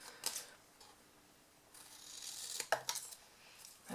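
Scissors cut cardstock for a paper pumpkin craft box, giving soft, close snipping and crisp slicing rustles with small clicks, quiet and without talk.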